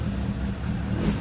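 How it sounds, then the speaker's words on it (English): Suzuki Bandit motorcycle engine, left standing for years and just revived with a new battery and carb clean, idles with a steady low rumble close by. "And here it is, idling with a battery and a carb clean."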